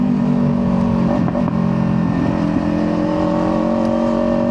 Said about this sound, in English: That kid's car sounded insane.